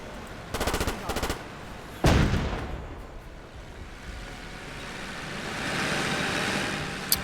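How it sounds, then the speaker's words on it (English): Tank machine gun fire in the Korean War game Theater of War 3, with a couple of rapid bursts early on, then a single heavy boom, followed by a rumbling battlefield wash that swells toward the end. "just keep on firing that machine gun"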